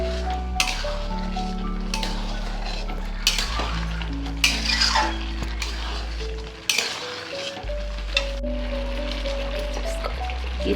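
Fried carrots are tipped into a pan of cooked fried rice and stirred, producing a loud continuous sizzle with repeated metallic scrapes and clinks of a utensil against the pan, over steady background music.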